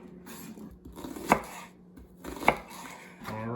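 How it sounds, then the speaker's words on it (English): A knife chops shallots on a board for a gastrique, giving two distinct sharp, close knocks about a second apart amid quieter slicing and rustling, no speech. "we are chopping up the shallots for the Gastrique"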